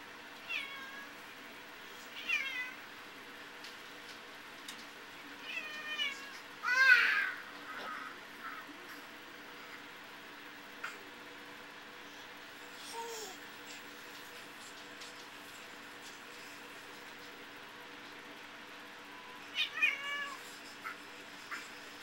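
Cat at home giving several faint, intermittent meows spread across a long, quiet stretch, one somewhat louder cry in the middle, with soft background noise between them.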